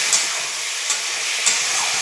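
A paste of green chilli, ginger, onion and tomato frying in a pan, a loud, close, continuous hiss and sizzle with a few soft stirring scrapes.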